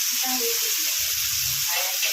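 Tomatoes sizzle in hot oil on an already heated griddle pan, a steady, loud, close frying hiss running throughout without pause.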